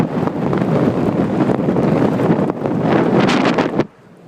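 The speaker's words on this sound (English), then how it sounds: "It'll sound really windy in a minute." Strong wind from a snow squall in a Canadian snowstorm roars steadily and loud against the microphone, gusting in surges, then cuts off abruptly near the end.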